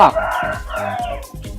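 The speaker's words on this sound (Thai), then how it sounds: "ขออภัยเสียงนางไก่นาง" Chickens and other birds call from a neighbouring house close by, with a loud squawk at the start and then repeated clucking and chatter that carries on steadily throughout the short stretch.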